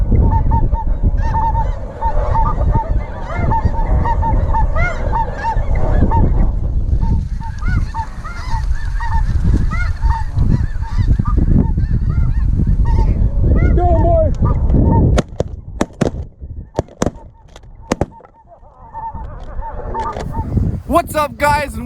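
A large flock of snow geese honks loudly and continuously during a hunt in Alberta, dense overlapping calls near and far, with people talking over them and sharp bangs toward the end.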